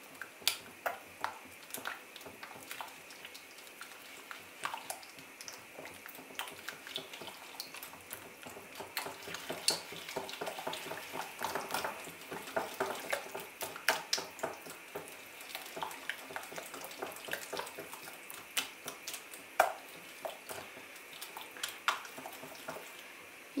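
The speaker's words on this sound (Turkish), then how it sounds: "Öncelikle sıvıları güzelce karıştırıyorum." Corn oil and eggs whisked together in a bowl, a steady run of quick, fairly close clicking strokes, unbroken for over twenty seconds, with no voices.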